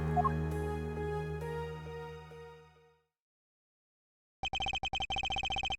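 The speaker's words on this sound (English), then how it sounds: "Why's my phone going off?" A telephone rings in short repeated electronic bursts near the end, loud and alone, following a fading sustained musical tone and a stretch of silence.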